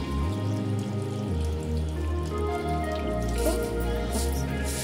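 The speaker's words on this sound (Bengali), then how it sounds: "এবার আমি হালকা জল দিয়ে দিচ্ছি" Water poured in a light splash into a cooking pot of potato, pointed gourd and pumpkin curry, a short continuous trickle and drip against the simmering food, close by.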